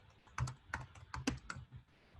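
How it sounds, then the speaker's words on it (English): Keys tapped on a computer keyboard in uneven bursts of five or six quick strokes, close and fairly quiet against a faint room hiss, with no voices. "as you can see, I suck at typing."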